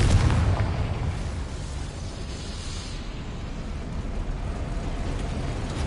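A Confringo spell explodes in Hogwarts Legacy, a heavy low boom at the start trailing into a dense rumbling roar that holds steady and loud.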